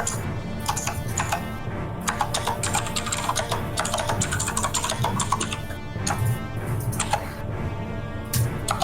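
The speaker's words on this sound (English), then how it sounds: "the typing you were hearing was Dion." Rapid typing on a computer keyboard during an online tabletop game session, close clattering keystrokes in irregular bursts with brief pauses, over a steady background hum.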